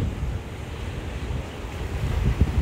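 Surf rolls onto a beach at Po'ipū, Kaua'i, a continuous low wash of waves with wind buffeting the microphone, rising slightly toward the end.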